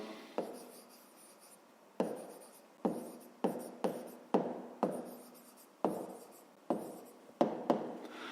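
A pen writes numbers on paper in a quiet room, with short, soft scratching strokes and sharp taps at irregular intervals, heard close up and alone.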